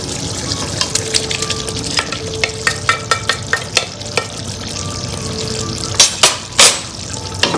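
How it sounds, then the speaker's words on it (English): Eggs dropped into a pot of thickening biryani masala, sizzling steadily with a series of sharp clinks and taps from a utensil against the pot, close and fairly loud. "At this point, I'm going to add the eggs that we have prepared here."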